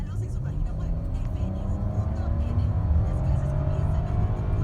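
A 2019 Audi Q7 3.0T accelerating in dynamic drive mode, heard from inside the cabin as a steady, loud engine drone with a rising pitch that continues throughout.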